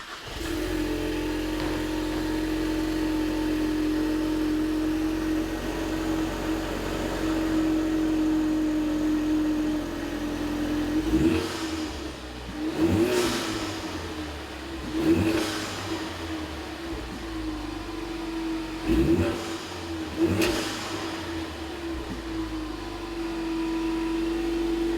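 A 2015-2023 Ford Mustang EcoBoost fitted with a Mishimoto 3-inch high-flow catted stainless downpipe idles steadily, then gives several sharp throttle blips, each rev rising and falling back to idle, close and loud.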